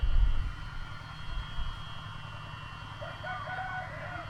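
A rooster crows at a moderate distance by the Songkhram River, a drawn-out call rising near the end over steady low rumbling background noise.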